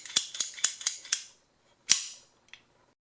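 A PEX crimp ratcheting tool clicks shut up close: five sharp, evenly spaced ratchet clicks, a pause, one louder snap, then a faint final tick, with silence between and no talk.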